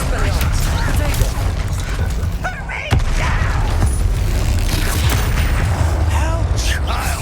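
Booming blasts and crashing debris from a Bombarda explosion spell in the Hogwarts Legacy video game, loud and dense amid combat clatter, with a sharp impact near the middle and voices shouting over the action.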